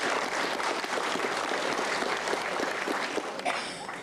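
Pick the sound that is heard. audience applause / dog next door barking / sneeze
audience applause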